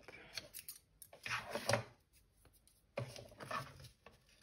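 Scissors trimming excess paper during scrapbooking, with two quick bursts of close, crisp snipping separated by a short pause.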